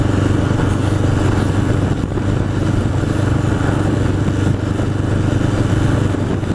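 A 1981 Honda CB750 Custom motorcycle rides along on a Sunday outing, its engine a steady, loud, close drone with continuous wind rush and no break in the sound.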